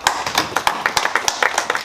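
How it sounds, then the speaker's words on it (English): Audience at a farmers conference gives a short round of clapping, with distinct individual hand claps in a fairly sparse, irregular patter up close. "Let's give him a good round of applause."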